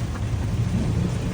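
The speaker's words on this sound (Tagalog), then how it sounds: "Grabe, lakas ng ulan." Heavy rain hisses steadily while a deep rumble of thunder rolls underneath, loud and continuous throughout the short stretch.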